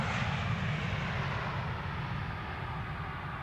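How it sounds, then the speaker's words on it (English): A plane landing at Amsterdam Schiphol without thrust reversers makes a steady, fairly distant roar as it rolls out on friction and runway length alone, with the rumble slowly easing and no voices. "seems like a no reverser landing."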